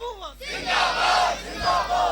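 A large crowd at a night-time religious gathering shouts a slogan in unison, loud, rising, sustained roars in two surges after a brief wavering voice at the start.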